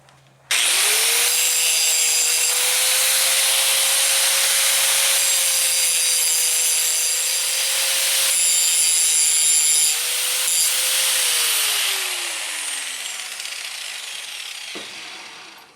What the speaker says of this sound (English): And time to hit it with the grinder.